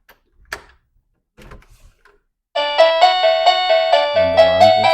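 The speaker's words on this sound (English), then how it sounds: "And the alarm goes off." A wireless door and window sensor alarm mounted in a kitchen chimes loudly after a few faint door clicks and handling noises, a bright repeating electronic doorbell melody that rings on steadily to the end.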